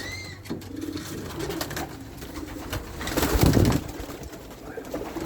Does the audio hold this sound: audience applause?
no